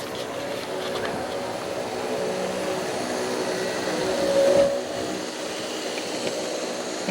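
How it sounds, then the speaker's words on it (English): A G scale model train runs with a Rock Island GP40 locomotive leading a string of modern covered hopper cars. It makes a steady, continuous motor hum and rolling drone at an even level with a brief swell partway through. "Now I've reversed the direction of the train, and now the Rock Island is the lead."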